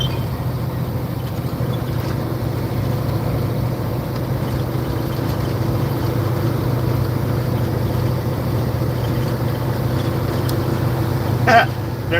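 A Volvo truck on a test drive, its engine droning steadily and evenly throughout with a constant low rumble, close by, and one brief louder burst near the end.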